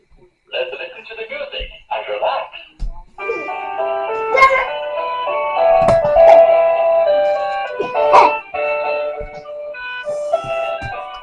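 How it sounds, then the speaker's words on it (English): An SGILE toy robot plays a tinny electronic tune with a music-box chime quality, fairly loud and steady after a few brief starts, with occasional bumps and an adult voice speaking over it. "Let's listen to the music and relax."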